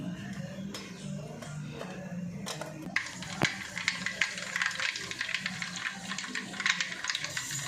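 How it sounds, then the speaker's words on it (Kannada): Mustard seeds splutter in hot oil for a tempering, starting soft and turning into a busy run of sharp crackling pops in the second half, heard up close. "1 ಸ್ಪೂನಷ್ಟು ಸಾಸಿವೆ ಹಾಕ್ತಾಯಿದ್ದೀನಿ."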